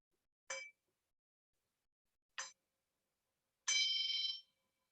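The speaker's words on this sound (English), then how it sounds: "I'm going to ring the bell." A meditation bell rings out three times in a quiet room: two short, bright strikes a couple of seconds apart, then a longer, sustained ringing tone, with no voices.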